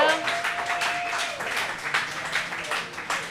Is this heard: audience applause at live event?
yes